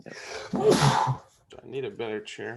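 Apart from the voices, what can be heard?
sneeze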